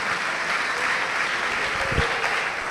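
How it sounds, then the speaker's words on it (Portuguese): A church congregation applauds together during a sermon, a dense, even wash of clapping that carries on steadily from start to finish. "Vamos aplaudir o Senhor, e se coloque de pé no seu lugar."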